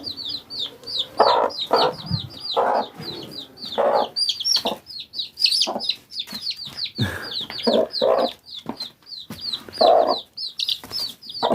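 A protective hen clucks in sharp, agitated bursts, loud and close, while her chicks keep up a steady, high peeping throughout. The clucks come in irregular rapid clusters above the constant chick chatter.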